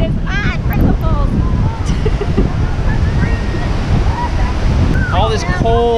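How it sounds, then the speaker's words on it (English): Strong wind roars at Yosemite Falls amid blowing mist and rain, a loud, steady rushing with gusting buffets on the microphone and a few faint voices underneath. "All right, you gotta see how windy and rainy it is."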